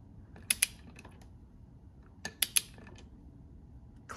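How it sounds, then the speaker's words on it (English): A torque wrench tightens the flywheel nut on a KTM XC TBI, giving two pairs of sharp metallic clicks close up, one pair early and one later, separated by quiet shop background. "We're going to torque that down to 60 newton meters."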